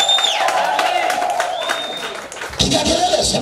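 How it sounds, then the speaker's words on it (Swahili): A church congregation cheers, ululates and claps for the Lord, a loud crowd roar with high trilling ululation that swells near the end. "Mpe Bwana vigelegele vikubwa na makofi kwa jina la Yesu"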